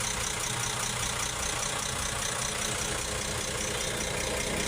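An engine just back from a top overhaul idles steadily and fairly loud for the whole stretch, with a low, even running rumble and no voices.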